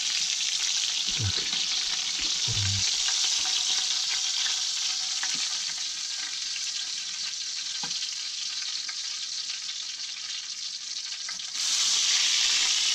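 Fish fry in a pan at a goose-hunting camp in Kolyma, Yakutia, a constant loud hiss of sizzling oil with a few soft clinks near the start and a brief spoken word.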